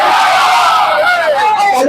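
Large crowd at a Tehreek-e-Labbaik religious political rally on Palestine in Jand, loudly chanting a slogan in unison, a close, forceful roar of many voices.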